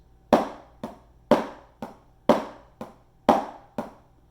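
Eight sharp drum strokes in pairs, the first of each pair louder, struck at an even pace and heard close with no talking.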